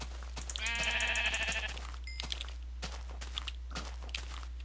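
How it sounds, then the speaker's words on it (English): A single long, wavering sheep bleat rings out loud and close in Minecraft, followed by quieter clicks and soft game noises over a steady low hum, with no one talking. "Sheep. I hate sheep."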